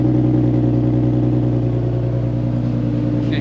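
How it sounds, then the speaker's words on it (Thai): A Nissan 370Z sports car's exhaust idles steadily at close range, a low, even burbling rumble with a slight rhythmic throb and no revving. "นี่เสียงท่อก็จะดังตุ้มๆเพุะๆอย่างเงี้ยนะครับ"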